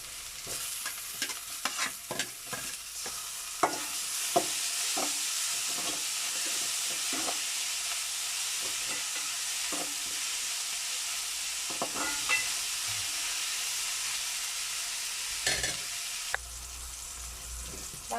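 Tomatoes sauté in a frying pan with a steady broad sizzle, punctuated by frequent scraping clicks of a spoon stirring throughout, close and continuous with no talking.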